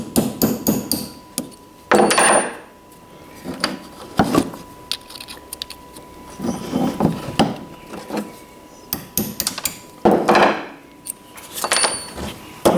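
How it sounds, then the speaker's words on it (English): A hammer drives a pin out of a South Bend lathe feed reverse lever, sharp metallic blows landing close by in irregular clusters with pauses between them. "So I'm driving the pin out."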